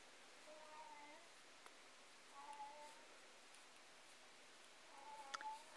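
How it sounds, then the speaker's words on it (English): Faint cat meows, three short cries spaced a couple of seconds apart, heard distantly over a quiet hiss of room noise. "Sorry if you hear my cat in the background."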